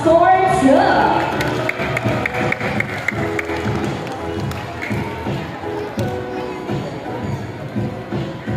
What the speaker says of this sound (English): So how about a round of applause for 2?